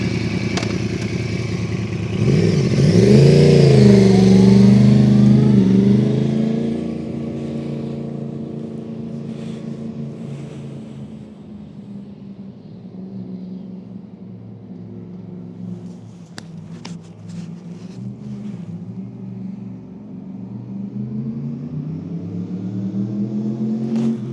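A Yamaha R1 motorcycle pulls away on a Mod 1 test centre course, its engine rising loudly in a revving surge early on, then settling into a steadier, quieter drone with a few sharp clicks near the middle.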